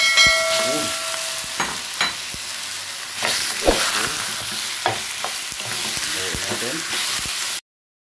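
Chopped chicken breast fries with plenty of onion and garlic in a pan, giving a steady loud sizzle punctuated by repeated sharp clinks and scrapes of a stirring utensil.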